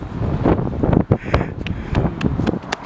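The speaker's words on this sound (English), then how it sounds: "So windy. Like potentially dangerous." Strong gusty wind blowing outdoors through trees, buffeting the microphone with loud, uneven rushes and sharp gust bursts, continuous throughout with no talking.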